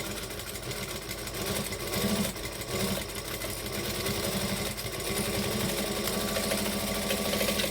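A sewing machine back stitching while finishing a seam on a Rascal add-on sews steadily and loudly with a dense, continuous mechanical whir and fine rapid clatter, close by and uninterrupted, with no talking.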